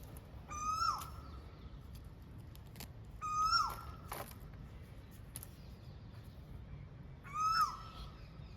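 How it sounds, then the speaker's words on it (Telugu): An Asian koel calling in a home garden on a hot summer day: three clear, rising whistled calls spaced a few seconds apart, moderately distant over a quiet background. "మా గార్డెన్లో కోయిలు ఉందండి,"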